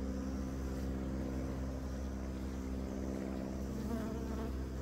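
Honeybees from new packages buzz steadily around an open hive frame, a dense, continuous drone close by with no pauses and no voices.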